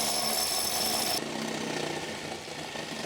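Power drill boring a hole through a house floor to run a water connection: a steady loud grinding whine held throughout, with a sudden drop in high-pitched tone partway through as the bit bites deeper.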